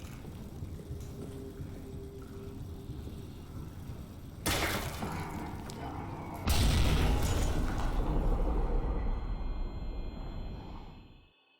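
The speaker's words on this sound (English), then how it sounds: "with the delayed explosion of the grenade" A grenade rigged to a tripwire in the Amnesia: The Bunker video game goes off with a delay: a sudden loud blast and then a heavier booming roar that rumbles for several seconds before cutting to silence.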